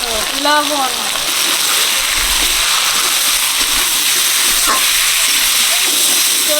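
Steady loud hissing sizzle as water is poured into a hot pan of sautéed potato curry, a continuous broad rush with a voice speaking briefly at the start.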